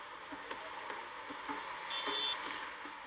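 Dense street traffic in gridlocked Lagos, Nigeria: a steady broadband roar of engines and vehicles with a repeating reversing beep and brief higher tones, fairly loud and continuous throughout, with no clear talk.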